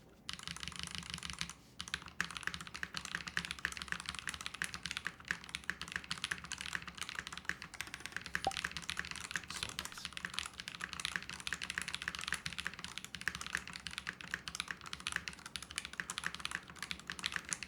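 Rapid, steady typing on a mechanical keyboard with tactile Holy Panda switches, an Ikki68 Aurora board, gives dense, even clacking with a brief pause near the start, close and fairly quiet, with no voices.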